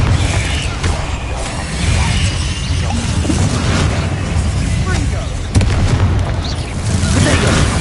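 In a Harry Potter video game, the Confringo fire-blast spell is cast. It produces dense, continuous rumbling booms and crackling bursts over busy game effects, with a voice calling out amid the din.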